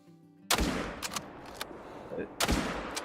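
A 30-06 rifle fires in theHunter: Call of the Wild, two sharp, loud cracks about two seconds apart, each with a booming tail, separated by fainter clicks of the bolt working.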